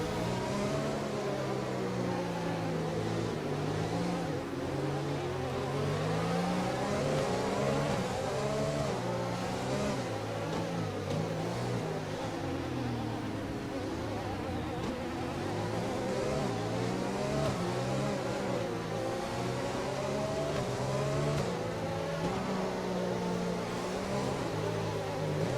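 Race cars in a racing game lap the Brazil circuit in a line behind the safety car, their engines buzzing and whining with rising and falling pitch as they change gear, a steady, moderate drone with no talking.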